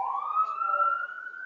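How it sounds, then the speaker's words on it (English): A police siren passes outside, one sustained wail rising slowly in pitch and holding at a steady, moderate loudness with no voices over it. "Yeah, damn sirens."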